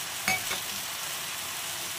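Fried lentil dumplings (bori) tipped into softened water spinach (kalmi shak) in a small pan, with a brief clatter and a few stirring scrapes over a faint, steady sizzle.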